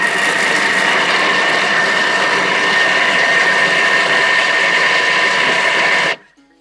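A kitchen blender at speed 5 blitzes an herb and garlic dip with a loud, steady, close motor whir and grinding hum, running continuously for about six seconds before cutting off abruptly.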